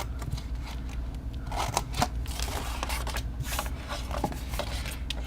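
Scissors snip along a score line in cardstock to cut a flap on a Stampin' Up! bag-box project, a handful of short crisp cuts and paper rustles close by over a low background hum.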